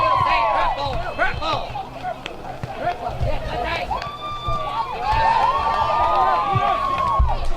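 Crowd at a high school boys soccer game between Norton and Westwood, a steady roar of cheering and shouting with whistles and calls rising and falling, under a commentator talking throughout.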